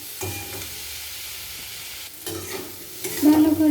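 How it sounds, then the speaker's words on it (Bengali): Potatoes and carrots stir-fried with salt and turmeric in a pan, a steady low sizzle broken by scraping stirs of a spatula, close up with no talking. "লবণ আর হলুদ গুঁড়ো দিয়ে দিয়েছি, ভালো করে কষে নেব আলু আর গাজর।"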